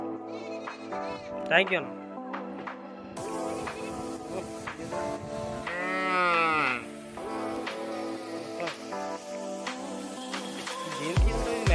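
Goats bleat repeatedly in a tribal village reached only by foot, with several wavering cries close by, mixed with people talking throughout.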